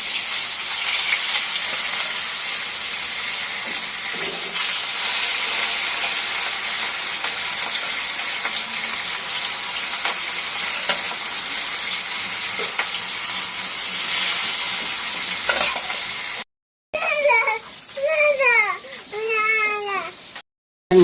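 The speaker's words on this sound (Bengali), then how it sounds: "তেলটা গরম হয়েছে, মাছটা দিয়ে দিই।" Rohu fish frying in hot oil in a home kitchen, a loud steady sizzle that runs close and unbroken for about sixteen seconds before it cuts out, then a child's wavering cry takes over.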